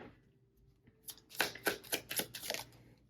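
Angel number oracle cards are shuffled in a quick run of crisp, riffling bursts that start near one second and then repeat in a steady rhythm, close and clear with no talking.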